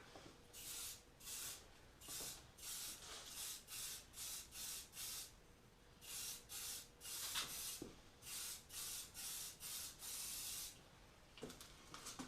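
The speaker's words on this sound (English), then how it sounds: "you don't spray it directly on there. You just let the flakes fall down into the green" Repeated short bursts of aerosol spraying paint flakes onto a car panel, about a dozen quick hisses in a steady rhythm, close by, with brief pauses and faint clicks between them.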